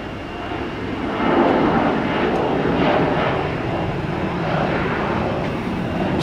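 A Southwest Airlines jet departing from an airport fills the air with a steady, broad engine roar that swells slightly and holds, heard from a distance without any voices.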